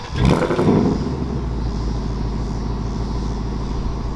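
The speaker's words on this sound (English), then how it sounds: "it can also remote rev" A 2024 Ford Mustang GT V8 engine revved by remote: a sharp, loud rev burst at the start, then a steady rumbling idle that continues, nearby and with no talk.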